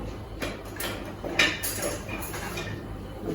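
Soft metallic scrapes and clinks of a utensil stirring inside a cooking pot over a village-style fire, repeated in an uneven rhythm over a low background hiss.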